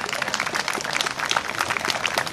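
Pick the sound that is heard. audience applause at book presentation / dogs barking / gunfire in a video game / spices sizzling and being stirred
audience applause at book presentation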